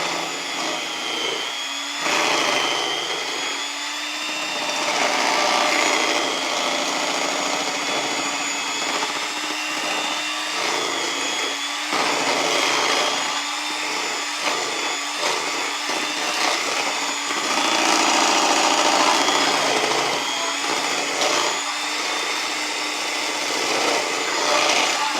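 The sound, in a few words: electric mixer mixing sour cream pound cake batter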